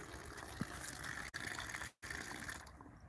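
Water pours steadily into a vessel with a soft, continuous gushing wash, close by and fairly quiet, briefly cut off twice before running on.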